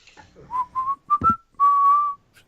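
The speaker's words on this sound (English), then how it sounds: "Just start whistling while waiting" A person whistles a short tune of a few clear notes, held tones rising and settling, close and fairly loud, with a brief low thump in the middle.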